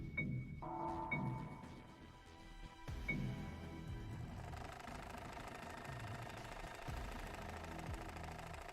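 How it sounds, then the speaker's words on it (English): Sewing machine inside a video game, a mechanical whirring and knocking hum with rhythmic stitching pulses that starts after a brief pause and then runs steadily at moderate level. "Oh, the sewing machine."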